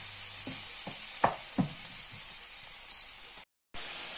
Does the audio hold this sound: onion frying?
yes